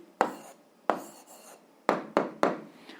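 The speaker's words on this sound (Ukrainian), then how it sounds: "записуємо відповідь" Pen strokes writing down an answer to a 7th-grade algebra exercise, a run of short, close scratchy strokes in irregular rhythm, quiet and alone without talk.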